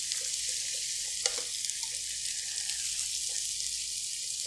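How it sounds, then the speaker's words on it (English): A beaten egg mixture for chicken fried rice fries in a pan with a bright, steady sizzle and crackle. A utensil knocks against the pan once, and the sizzle carries on. "I'm just going to add our egg mixture."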